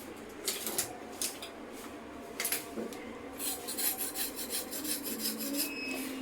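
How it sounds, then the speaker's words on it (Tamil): A knife scrapes along the skin of a small baby shark during cleaning, giving repeated close, raspy strokes in an uneven rhythm, with no talk over it. "அப்படியே சுரண்டா இருக்கணும் கத்தி வச்சு"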